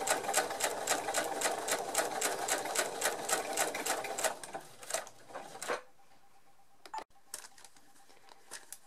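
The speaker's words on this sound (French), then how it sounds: "un autre morceau de tissu et je vais piquer le long" A domestic sewing machine stitches along scraps of fabric in a fast, steady needle rhythm for several seconds, then stops, leaving a quiet room with a few faint handling clicks.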